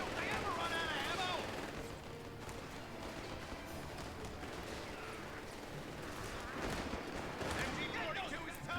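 Enemy machine-gun fire from an MG-42 rattles through a Company of Heroes 3 battle, a dense, sustained barrage of mixed shots and blasts at moderate distance under scattered voices.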